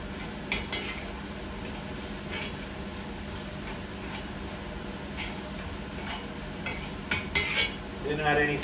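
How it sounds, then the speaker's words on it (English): After a steak is seared, a pan is deglazed with balsamic vinegar: a soft sizzle runs beneath repeated clinks and scrapes of a utensil against the pan, close by, with busier clattering toward the end. "Deglaze with some balsamic vinegar."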